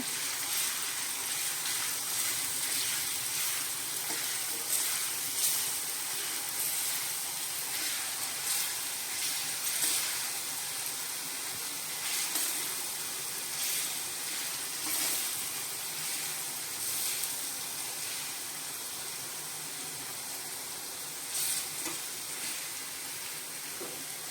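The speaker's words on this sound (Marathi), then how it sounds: "तेल गरम झाल्यानंतर मी हा मिक्सरला लावलेला मसाला टाकते" Mixer-ground spice masala roasts in hot oil in a kadhai while a traditional harbhara (chickpea leaf) bhaji is cooked, giving a steady, fairly faint sizzling hiss that runs unbroken with no voices.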